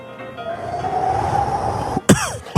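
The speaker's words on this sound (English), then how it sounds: "You can't cough in the middle doing wind." A long, breathy vocal whoosh fades into a single sharp, close cough near the end.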